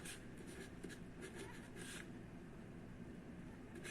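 A pen scratches numbers onto a surface during a maths lecture, faint rhythmic strokes in short bursts over a quiet room background.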